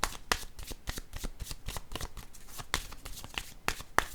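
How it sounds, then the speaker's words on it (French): A tarot deck being shuffled by hand, a rapid series of crisp riffling card snaps and slides close up, followed by a card being drawn, with no voices. "je vais piger une autre carte"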